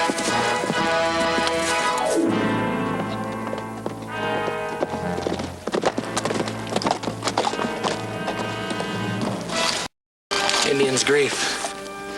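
Horses' hooves clip-clop through a Western television drama scene, with rhythmic hoof beats mixed under a continuous musical score and a neigh in the middle, cut by a brief silent gap near the end.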